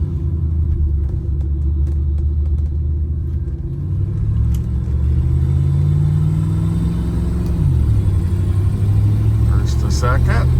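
A 1963 Oldsmobile 88 driving on the road, shifting from first to second gear: a steady, loud low engine rumble whose pitch climbs gradually and then drops at the shift, with a voice talking over it.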